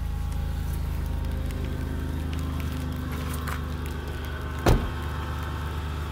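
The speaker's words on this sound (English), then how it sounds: "Cold start 2000 Dodge Grand Caravan" A 2000 Dodge Grand Caravan SE engine idles steadily after a cold start, a low constant rumble heard close by, with a brief louder thump partway through.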